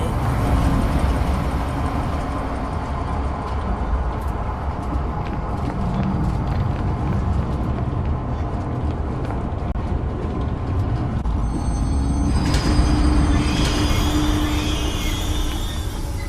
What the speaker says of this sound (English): Now, select the giraffe enclosure on the control panel and start the train.